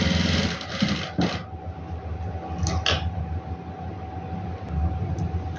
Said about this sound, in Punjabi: ਫੋਲਡ ਕਰਕੇ ਕੱਪੜੇ ਨੂੰ ਐਦਾਂ ਮੋੜ ਕੇ ਇਹਦੇ ਉੱਪਰ ਸਲਾਈ ਲਗਾ ਲੈਣੀ